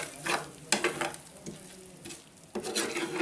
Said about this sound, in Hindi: इसको अनारदाना ऐड करके इसको जो है वो अच्छी तरह मिक्स कर लेंगे